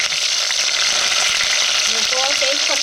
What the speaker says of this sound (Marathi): फोडणीला लसूण तेल बघा मस्त गरम झालं हो, हो, हो, कांदा टाकते कांदा बरोबर कढीपत्ता